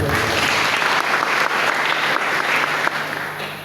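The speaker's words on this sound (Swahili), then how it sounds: "Pigeni makofi" A congregation applauding in a church, dense sustained clapping that stays loud for several seconds before easing slightly at the end.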